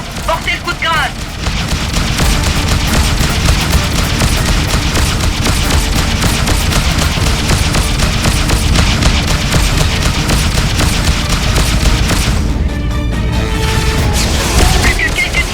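Rapid, dense weapon fire and explosions roar during space combat in the Freelancer video game, a loud, continuous barrage of shots and booms, with a brief lull near the end and voices speaking over it.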